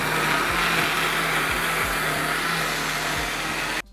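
A blender runs steadily on cake batter for a cake sold in pots, giving a continuous loud whirring hum with a few low thumps, then cutting off abruptly right at the end.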